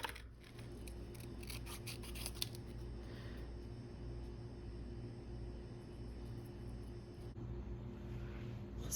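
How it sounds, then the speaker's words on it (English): Scissors cut out simple paper shapes for a collage postcard. Quick snips come close together early in the clip, then softer rubbing and paper handling continue over a low steady hum. "So now I have to fussy cut these out."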